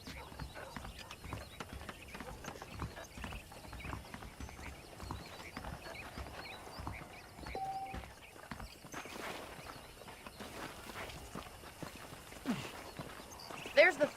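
Saddled horses walk in the western video game Red Dead Redemption, their hooves clip-clopping in a steady, faint rhythm against a soft ambient background, with a voice talking over the steps.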